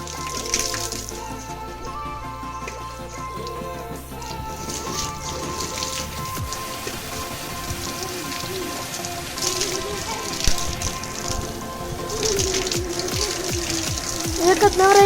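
Buffaloes being bathed outdoors, with water splashing and pouring continuously for the whole stretch, fairly loud and close, with occasional voices in the background.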